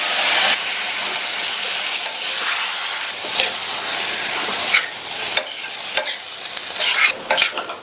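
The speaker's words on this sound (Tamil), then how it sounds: "முருங்கைக்காயை சேர்த்துட்டு நல்லா கலந்து விட்டாச்சு." Drumsticks being stirred into a masala in a frying pan: steady close sizzling and hissing, with scraping spoon strokes and scattered sharp clinks against the pan growing more frequent toward the end, no talk.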